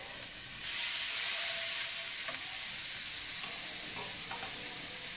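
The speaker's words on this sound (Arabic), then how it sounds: "Me voy a echar ajo machacado." Crushed garlic dropped into about three tablespoons of hot oil in a pan, a sudden loud steady sizzle that starts after a brief quieter hiss and continues with faint crackles, no talking.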